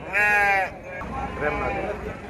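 Sheep bleat loudly and close at a Gudur livestock market, one sustained harmonic bleat followed by a fainter wavering one, with someone talking underneath.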